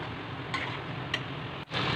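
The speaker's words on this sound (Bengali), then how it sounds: "তারপর মশলাটা কষানো হয়ে গেলে সব সবজিগুলো একসঙ্গে দিয়ে ভালো করে কষিয়ে নিতে" Mixed vegetables and spices being stir-fried together in a pan for a Bengali niramish mixed veg curry, a steady soft sizzle with a few brief scraping stirs over two seconds, fairly quiet and close, with no voices.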